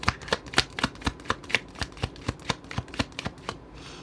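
Tarot cards being shuffled by hand, with a quick series of crisp papery slaps and flicks in an even rhythm, close and clear, fading at the end.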